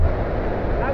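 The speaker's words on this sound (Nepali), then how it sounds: "यहाँ लाङटाङ खोला बौलाइरहेको छ।" The Langtang river in Nepal roars nearby in a swollen, fast-flowing rush, a loud, steady broadband wash of water with wind buffeting the microphone.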